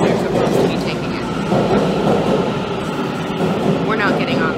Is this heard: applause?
no